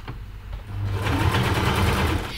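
A sewing machine stitching fabric for a macaw fursuit: a short, steady high-speed whirring run that starts after a brief pause and holds, with nobody talking.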